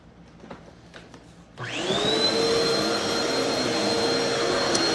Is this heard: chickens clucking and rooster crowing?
no